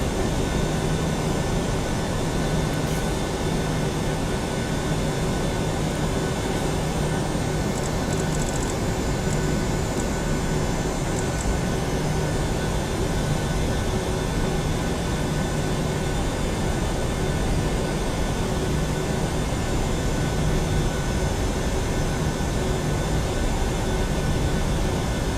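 Boeing 737 NGX engines in the PMDG flight simulator at takeoff thrust, a constant loud broadband jet roar with a faint high whine, running unbroken and with no voices.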